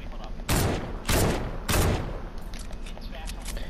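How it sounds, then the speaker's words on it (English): A slow-firing gun in the Fortnite video game fires three loud, booming shots at roughly even intervals, each followed by a short decaying tail, then quieter game ambience. "that's the best sounding gun in the game"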